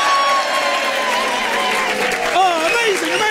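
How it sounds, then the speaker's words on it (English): A live festival audience at the Hay Festival applauds and cheers, with steady dense clapping and whooping voices rising toward the end, all close and loud throughout. "recorded live at the Hay Festival with a real-life audience who sound a little bit like this"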